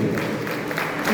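A church congregation at a worship service applauds, a brief wash of many hands clapping at a moderate, steady level.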